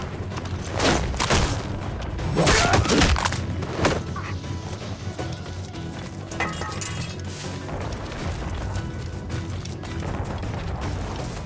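Mortar fire in Assassin's Creed Rogue during a fight at sea, with heavy booming blasts and splintering crashes early on, then a clattering, clinking battle din.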